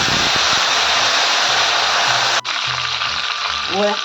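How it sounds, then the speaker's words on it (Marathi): Small local mustard seeds and curry leaves crackle and sizzle in hot oil in a pan, a loud, steady hiss close by that stops abruptly and is followed by quieter sputtering, with a voice talking near the end. "यात टाकायची आपल्याला मोहरी मी अशी गावरानी मोहरी घेतली आहे बारीक एकदम छान तळतळी द्यायची"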